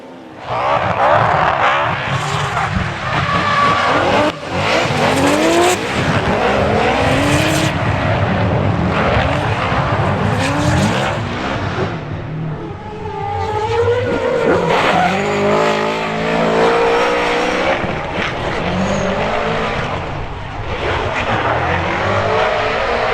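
Drift cars at the D1NZ National Drifting Championship in New Zealand roar past with screaming engines and long tire squeals, loud and continuous, with rising and falling revs as cars slide through corners.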